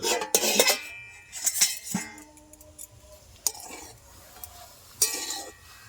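Amla, ginger and turmeric being stirred in a pan produce several loud metallic scrapes and clinks from a utensil, with quiet gaps in between.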